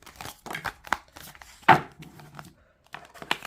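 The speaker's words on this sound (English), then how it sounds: "So I'm an overhand shuffler and they shuffle really, really smooth. Can you hear that click, click, click?" Flexible Rebel Heart Tarot cards are overhand shuffled, giving a quiet, uneven run of soft clicks and snaps, with one sharper crack near the middle and faint papery rustling between them.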